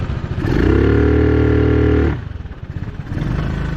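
A Honda Helix scooter engine revs up close, holding a steady rising drone for over a second, then dropping back to a rough, uneven idle.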